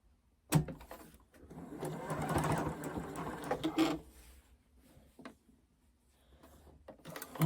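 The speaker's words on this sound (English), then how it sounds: "Then pick up my stitching again at 1/4 inch." A sewing machine stitches a quilt seam at a quarter inch in a single run of rapid mechanical chatter lasting about three seconds. Soft clicks and handling noises come before and after.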